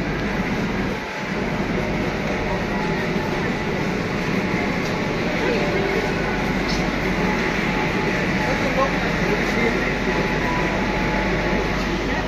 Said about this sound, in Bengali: এবারে আমাদের এদিকেও ঢুকবে মেট্রো এক্ষুনি।